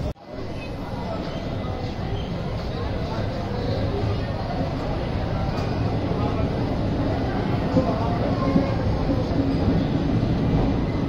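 Intercity express train pulling into Narela station in India, a steady loud rumble of wheels and carriage noise heard from inside, holding constant with faint rattles throughout.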